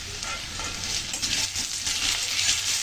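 Water is poured into chana dal cooking in a hot pan, producing a continuous hissing sizzle mixed with stirring, close and steady for the whole stretch, with no talking.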